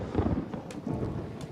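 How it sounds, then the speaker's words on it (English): Thunder from lightning during a race in the Gran Turismo 7 video game, a dense low rolling rumble that swells twice and fills the whole moment at moderate loudness, with no talk over it. "lightning goes off in the background"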